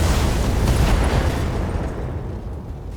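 Weapon fire and a big explosion in the BattleTech mech combat game, a dense roaring boom that swells and then slowly fades.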